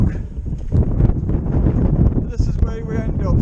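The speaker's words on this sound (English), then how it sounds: "it's very windy" Wind buffets an outdoor camera microphone with loud, continuous low rumbling and gusty roar throughout the short stretch.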